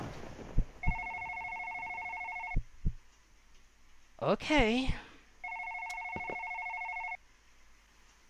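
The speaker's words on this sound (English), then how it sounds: "the phone is ringing, of course" A telephone in a video game rings in two long electronic trills separated by a pause, with a brief spoken word and some thuds between the rings.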